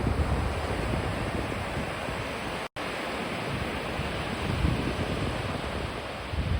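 Waves washing onto a sunny beach near the Sharavati mangroves at Honnavar, a steady broadband surf roar with wind buffeting the microphone and one brief dropout midway.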